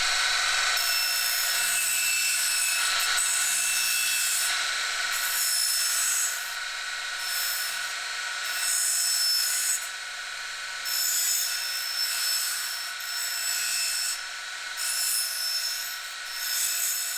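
A machine deburrs the edge of a folding saw blade at a saw manufacturing shop, producing a steady high-pitched grinding hiss that runs continuously, with slight dips and surges as the blade is worked.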